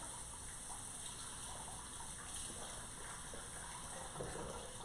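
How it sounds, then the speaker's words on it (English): Tap water runs over canned beans in a colander in a kitchen sink, making a steady, even gush. It stays faint and constant with no breaks, and no one speaks. "I'm going to pour the beans right into the colander, into my sink, and give that a little rinse."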